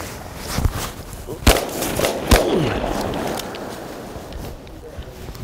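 Shotgun shots crack out during a December bird hunt at a southern plantation, two or three loud sharp blasts a second or so apart, with footsteps and outdoor ambience around them.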